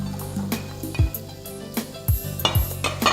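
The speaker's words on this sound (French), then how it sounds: "on va maintenant utiliser le reste de l'huile pour faire revenir les légumes" Turnips, onion and carrot sticks sizzle gently in oil in a pan, with a soft steady hiss under repeated clinks and scrapes of a utensil stirring against the metal.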